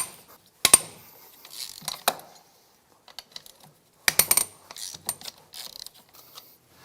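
Four 12 mm cylinder head bolts being loosened with a ratchet in a crisscross pattern: sharp clicking ratchet bursts in two separate clusters, with quieter mechanical ticks between them, close up and with no voice.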